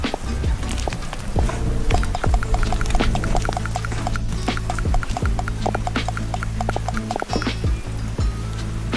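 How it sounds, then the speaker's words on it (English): Beer poured aggressively into a glass gives a gurgling, splashing glug with fizzy bursts, steady and close throughout. "That's what I call an aggressive pour."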